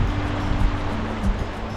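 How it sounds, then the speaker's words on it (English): River water flowing past Chumathang in the Himalayas, a steady broad rushing wash heard close with a faint low rumble underneath. "the water's flowing here"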